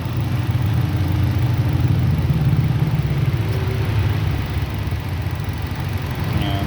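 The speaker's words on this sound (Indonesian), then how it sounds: "Nah, sekarang normal ya mesinnya ini." A Nissan Grand Livina engine idles steadily after a faulty ignition coil was fixed, a loud, even low rumble with a constant hum and no voices over it.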